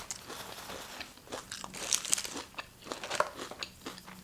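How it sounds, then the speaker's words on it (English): Onion rings being eaten close to the microphone give loud, crisp crunches and bites in an irregular run of chewing, with no talking over them. "I know y'all hear all that crunch."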